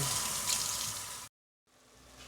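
Dishes washed under a running kitchen tap while spaghetti bolognese cooks, a steady loud rush of water that stops abruptly and then resumes more softly.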